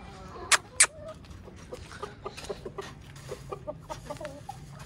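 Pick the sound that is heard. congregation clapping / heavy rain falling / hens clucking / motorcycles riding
hens clucking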